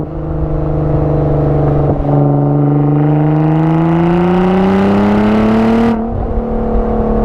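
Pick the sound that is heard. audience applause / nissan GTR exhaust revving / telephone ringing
nissan GTR exhaust revving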